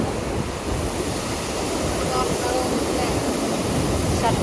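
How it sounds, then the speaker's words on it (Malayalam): Water released from Kanjirapuzha Dam rushes down through open shutters in a steady, loud, continuous roar that fills the whole clip, with no talking. "ഡാമിൽ നിന്ന് വെള്ളം ഇറങ്ങണതാട്ടോ, നല്ല ഭംഗിയുണ്ട് കാണാൻ"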